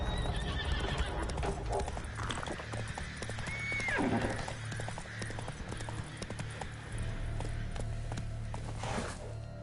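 Roach the horse in The Witcher 3 game, hooves clip-clopping in a steady gallop with a sharp neigh midway, over faint background ambience.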